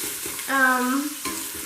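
Beef and pork pieces sizzle and fry in a pan while being stirred, a steady close crackle with brief surges, and no talking.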